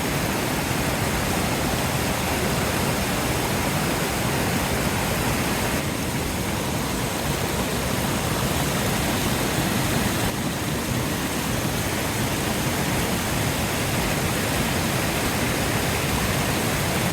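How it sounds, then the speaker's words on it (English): A steady, full roar of a waterfall on the Cabot Trail, Nova Scotia, constant and broadband, with no voices over it. "The waterfall is magnificent."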